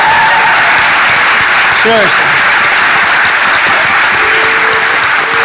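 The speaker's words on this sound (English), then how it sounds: "So give her a big round of applause." A large audience at the DEF CON 21 hacking conference closing ceremony applauds in a loud, sustained wash, while someone speaks briefly over the clapping.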